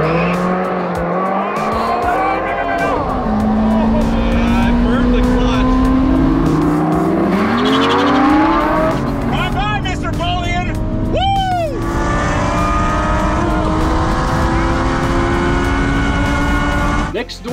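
Cheap exotic cars race down a quarter-mile drag strip, engines roaring loudly as revs climb through gear changes, with tire squeal and constant voices layered over the noise.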